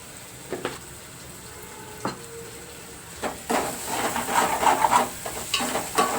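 Raw prawns and drumsticks cooking in a pan with salt added are stirred, a few sparse spoon scrapes at first, then denser scraping and a soft sizzle building over the last few seconds, close and fairly loud.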